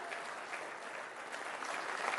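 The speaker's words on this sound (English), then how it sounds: "A warm round of applause" A live audience claps warmly and steadily for a doctor arriving on stage at a morning health talk about heart attacks, a dense, even wash of applause lasting a couple of seconds with no voices on top.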